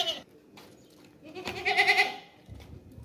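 A desi Makhi Cheeni goat bleats once, a loud, wavering nasal call lasting about half a second, close by, preceded by fainter farmyard noises and followed by quiet background sounds.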